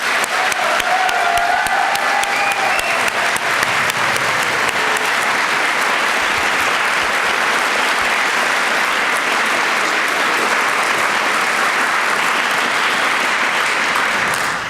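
Sustained, loud applause from a large audience at a university awards ceremony honoring outstanding graduates and their mentors, dense and steady throughout with no speech over it.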